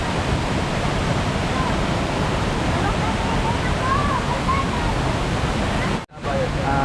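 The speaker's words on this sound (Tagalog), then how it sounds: "nandito na tayo sa Bira Falls. Tingnan nyo naman, napakaganda ng tubig." Water pours at Bira Falls (Vera Falls) in a constant, dense roar of rushing, splashing water, broad and steady throughout, with a brief dropout near the end.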